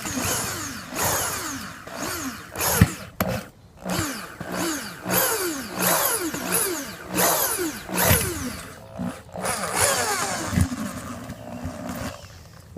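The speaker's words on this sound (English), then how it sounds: "We're drilling a pilot hole like this." A hand drill bores a pilot hole in a canopy leg, a rough whirring motor rising and falling in repeated bursts with gritty cutting noise, loud and close throughout with no voices.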